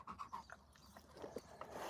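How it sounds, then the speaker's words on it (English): A dog pants inside a car, quick rhythmic breaths close to the microphone with a slight whimper, fairly quiet and steady throughout without talk. "I'm sitting here with the dog in the car"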